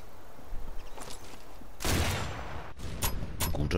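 Sharp sniper rifle gunshots in the video game Sniper Elite 4 crack out in a few separate bursts, loud and close, against a low background murmur.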